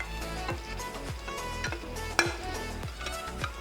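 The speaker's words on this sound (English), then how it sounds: "I put high fire and stir them until the mutton mix well" Pre-cooked mutton with a splash of mutton stock is stirred over high fire for biryani, producing repeated rhythmic scraping strokes over a constant sizzle, with one sharp clink partway through and no talking.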